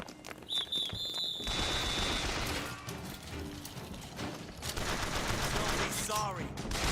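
Gunfire in BioShock Infinite, a loud, dense fusillade of rapid shots sustained across the clip, with a high whining tone early on and a clatter of impacts near the end.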